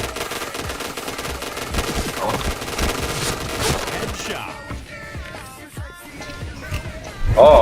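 Gunfire during a night hunt, a dense run of sharp rapid shots filling the first few seconds, then quieter scattered sounds and a louder burst at the end.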